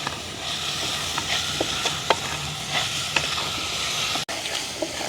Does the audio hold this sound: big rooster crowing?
no